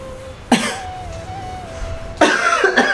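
Two bursts of coughing from dust during cleaning, close by, with a steady background hum and a faint whistling tone between them.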